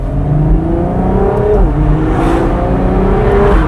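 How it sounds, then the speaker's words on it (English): Ferrari 458 Spider V8 engine running after a cold start, a loud raw continuous rumble with rising and falling revs, close and steady throughout with no voices over it. "458 Spider. With the cold start of this, well, when it's cold, it sounds so much rawer."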